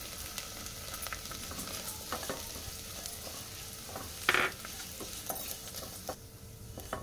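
Flattened rice (poha) frying in a pan for payasam: a soft, steady sizzle with light stirring scrapes and a brief louder clatter partway through, fairly quiet throughout.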